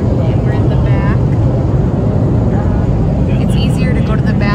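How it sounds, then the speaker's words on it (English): Steady low engine roar and cabin hum inside an airplane just after boarding, seated toward the back, a constant broadband drone throughout with faint voices murmuring nearby. "We just got on the plane and we're in the back."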